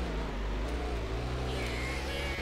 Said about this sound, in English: God, this car is very slow.